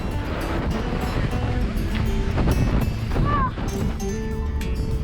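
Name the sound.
strong wind on a New Zealand glacier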